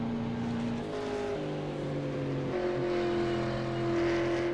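A race car engine in the iRacing sim racing game drones steadily, its pitch stepping up and down as it shifts gears while driving on, heard clearly against faint background noise.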